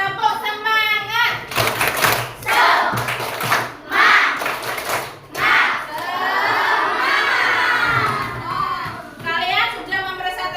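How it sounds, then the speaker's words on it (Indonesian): A class of children performs a rhythmic spirit clap, bursts of shouting and chanting from the group punctuated by claps, loud and close, with a teacher's voice among them. "Tepuk semangat."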